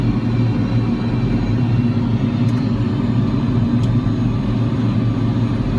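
A JET45 radio-controlled model jet flying with one engine out, giving a steady, continuous droning rumble that stays fairly loud and even throughout, with no talk over it.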